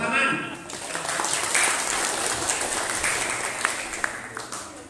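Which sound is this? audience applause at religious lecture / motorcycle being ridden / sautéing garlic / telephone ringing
audience applause at religious lecture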